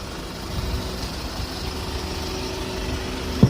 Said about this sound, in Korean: 자 엔진 소리 너무 좋고요